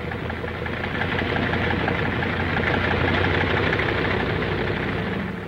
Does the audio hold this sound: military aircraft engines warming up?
yes